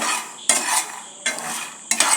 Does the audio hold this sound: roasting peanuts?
yes